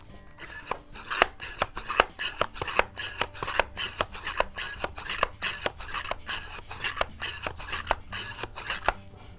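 A Swedish Excellent C1 .21 caliber airgun being pumped up, heard as a steady run of close, rhythmic rasping strokes with no talk.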